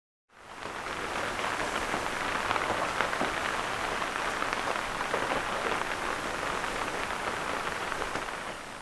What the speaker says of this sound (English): it started raining sometime in the morning